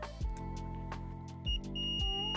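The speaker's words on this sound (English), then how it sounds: "I'm gonna do a quick continuity test here to see if we have anything with this." A multimeter beeps during a continuity test on a Hogwarts Express toy train under repair, giving several short sharp tones close by with steady electronic hum between, and no talking.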